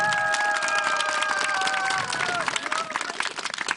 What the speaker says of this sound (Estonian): Teeme neile kõigile üks kõva aplaus.